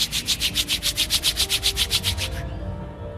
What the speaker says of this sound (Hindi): फिर एक बार हथेलियों को आपस में रब करें